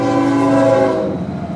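A bullet train roars past loudly and up close, its horn sounding as a sustained, slightly falling multi-tone blare over heavy rumble that trails off.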